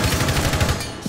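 Rapid automatic gunfire in the tactical shooter Rainbow Six, a loud burst of closely spaced shots rattling for about a second with no pause.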